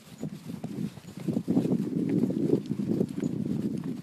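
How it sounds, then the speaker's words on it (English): A horse called Merlin walks a trail near Kilkenny, its hooves clip-clopping in a steady, moderately loud rhythm, with no talk in the clip. "Ellen's riding Merlin and I'm Merlin."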